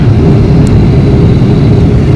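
Airplane flying overhead above New York, heard as a loud, steady low rumble with broad roar that stays constant throughout, no voices present.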